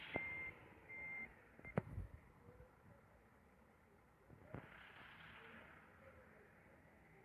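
A truck reversing alarm beeps in a few quick bursts as the truck is turned, followed by engine rumble and low background noise.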